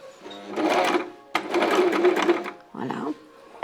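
Sewing machine stitching costume fabric at a village craft fair, running in two long loud bursts with a short pause between, then a brief softer run; talk is heard alongside the machine.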